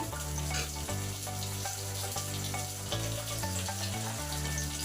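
Flat beans, green beans and potatoes frying together in a little oil for a Bengali sukto, a close, even sizzle with a steady hiss and faint spatter, running alone without any voices.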